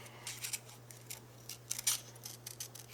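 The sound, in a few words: big scissors being handled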